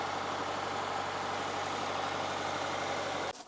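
An SJ Subaru Forester XT engine idles steadily with a low, even rumble, then cuts off abruptly at the end.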